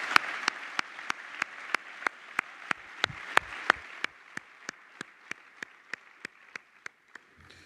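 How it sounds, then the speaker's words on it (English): At a commencement ceremony, evenly spaced claps ring out one after another in a slow, steady rhythm, a couple of dozen sharp hits that are fairly faint and grow slightly weaker toward the end. "Let's give them a hearty round of applause for all that they've done."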